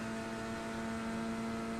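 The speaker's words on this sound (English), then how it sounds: "I don't know why I'm getting such a big wind sound" Steady broadband wind rush with a constant engine-like hum inside the cockpit of a racing car during an 8-hour endurance sim race at Spa, continuous and fairly loud throughout with no talking.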